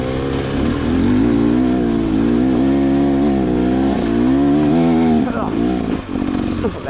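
A GasGas EX250 dirt bike engine drones loudly and steadily at close range, pitch wavering as the throttle shifts, with a rider's voice partly over it near the end.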